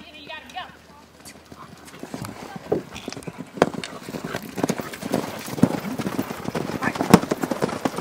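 Horse hooves clip-clopping in a busy, uneven rhythm as the horse is moved along a wall, close and fairly loud, with people calling out over the hoofbeats.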